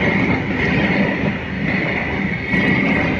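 Freight train wagons rolling steadily past at close range, a loud continuous rumble and rattle as a run of container flats gives way to Vedanta Aluminium tanker wagons.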